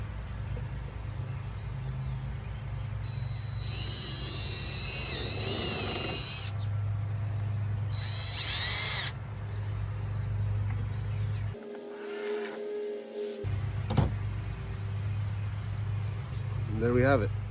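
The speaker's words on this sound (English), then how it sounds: "I've got a 1/4-inch drill bit, and we're just going to drill out these" A power drill bores holes through a block of wood with a 1/4-inch bit, high whining bursts rising and falling in several short runs over a steady low hum, with brief voices in between.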